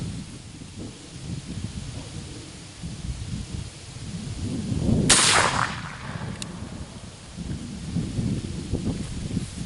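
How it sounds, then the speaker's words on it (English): A Kentucky long rifle muzzleloader fires one loud, booming shot at close range outdoors, its rumbling echo trailing off over steady low background noise. "Let me fire off a couple more"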